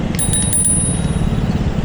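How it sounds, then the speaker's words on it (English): A little handlebar bell rings in four quick, bright dings, its tone lingering and fading over a steady rumble of engine and traffic nearby. "I've got a little bell"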